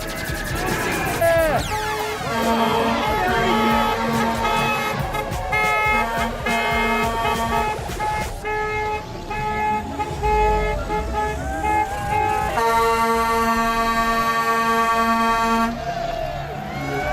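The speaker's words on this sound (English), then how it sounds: "Cleveland Browns dump truck." A dump truck in a street parade toots its horn over and over in loud sustained blasts, with crowd noise and voices underneath.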